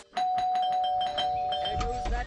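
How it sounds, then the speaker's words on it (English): A doorbell in the Scary Teacher 3D video game rings out a repeated electronic chime, a quick run of bright tones that is loud and close and ends in a low thump. "There goes that stupid bell again."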